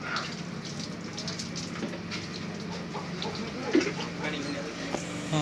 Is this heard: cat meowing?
no